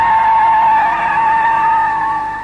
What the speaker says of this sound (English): Now, full power, second gear, my foot absolute to the floor, and absolutely no oversteer.